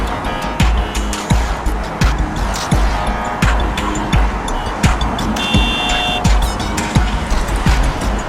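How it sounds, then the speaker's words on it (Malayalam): Busy road traffic near a railway station, with a dense constant roar of vehicles and repeated sharp thumps and clatters from passing cars, loud and close, with a faint horn-like tone partway through. "എന്തൊരു മുടിഞ്ഞ ട്രാഫിക്കാ"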